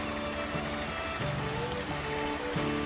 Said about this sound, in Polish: Spójrzcie na ten wodospad.